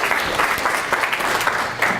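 A brief burst of thick, continuous applause from a college student-activities event audience, loud and close, filling the whole moment with overlapping claps.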